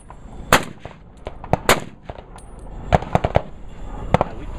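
A Blaser R8 rifle fires several sharp, loud shots at irregular intervals, each a crisp crack with a short echoing tail against quiet outdoor background.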